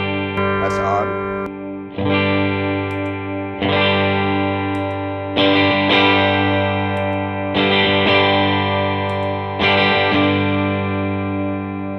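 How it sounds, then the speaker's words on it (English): Electric guitar through an EHX Soul Food overdrive pedal being switched on and off: six loud, sustained, gritty strummed chords, each struck about every two seconds and left ringing with a bright, saturated edge. "I'm just going to turn the Soul Food on and off, see if you can hear the difference."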